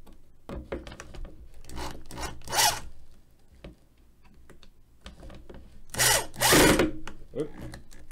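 A power drill drives screws back into wood in a workshop, in short whirring bursts with rising whines and gritty scraping between quieter pauses, close and moderately loud.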